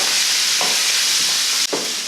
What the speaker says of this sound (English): You just have to continue stirring, and you see the color is changing, it's becoming a little bit brown